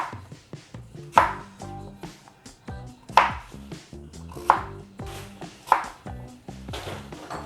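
A knife chops orange sweet potato on a board with sharp, evenly spaced thuds about a second apart, each cut followed by quieter board taps, close and clear without talk.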